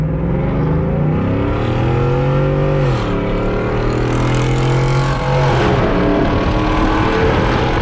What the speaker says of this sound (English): nothing beats the sound of the truck